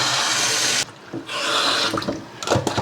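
A steady hiss of hot water pouring from a tap into a sink, briefly cut off, then running again with splashy clinks and knocks.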